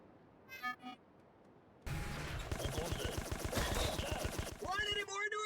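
Gunfire in the 2006 video game Rogue Trooper, a loud sustained automatic burst of rapid regular shots that starts suddenly after a short quiet stretch and continues with battle noise to the end.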